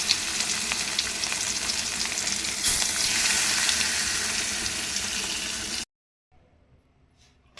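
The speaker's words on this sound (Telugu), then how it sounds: "ఇదిగోండి ఇవి అయితే ఫ్రై చేస్తున్నాను ఇప్పుడు." Fish pieces fry in a pan with a loud, steady, close sizzle for about six seconds, swelling briefly partway through, then cutting off abruptly to near silence.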